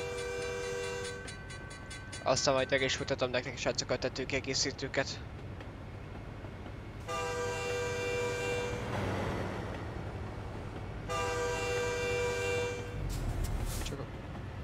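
In Euro Truck Simulator 2, a train horn blares repeatedly as a train passes a level crossing, with a rattling rail rumble between blasts and someone speaking over the game sound.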